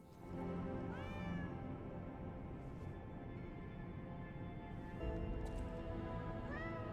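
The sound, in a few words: cat meowing in the video game Lies of P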